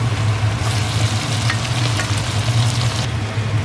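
Onion, garlic, scallion and tomato sautéing in a pan give a steady, close sizzle and frying crackle, loud and continuous with no talk.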